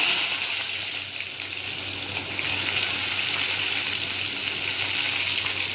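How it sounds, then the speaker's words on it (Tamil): Cumin seeds sizzling in hot oil in a pan, a steady close hiss and crackle that holds at an even level throughout. "இப்போ எண்ணெய் ஊற்றி சீரகம் ஒன்று போட்டுக்கலாம்"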